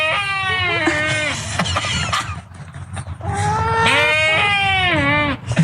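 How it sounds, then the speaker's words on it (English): A sheep with a striking voice bleats in two long, wavering calls, the first trailing off before a short pause and the second rising loud and close over faint background rumble. "I met a sheep that had the coolest voice"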